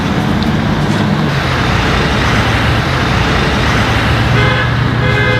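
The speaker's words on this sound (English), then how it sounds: "We can leave after you get 2 more horn honks." Car horns honk amid loud roadway traffic at a car wash, short toots standing out over a continuous rumble of passing vehicles.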